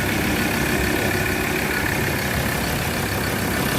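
A 3.2 car engine runs steadily after a camshaft position sensor swap, a close, loud, continuous rumble with no speech.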